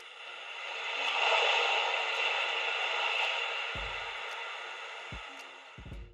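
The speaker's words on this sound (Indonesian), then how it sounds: "sound efek suara gelombang laut seperti ini" A smart alarm clock plays an ocean wave sound effect, a steady soft hiss that swells and fades like surf, with a few low thumps near the end.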